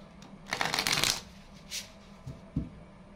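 A new Dutch tarot deck shuffled by hand, with a dense burst of riffling card flutter followed by a few softer taps and shuffles, close and clear in a quiet room.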